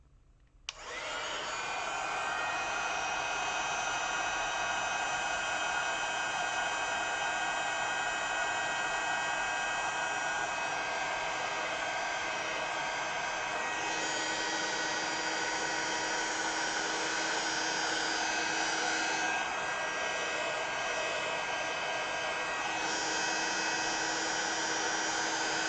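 A heat embossing tool blows hot air over a craft card, making a steady, loud whirring rush that runs unbroken for about 25 seconds with no voices.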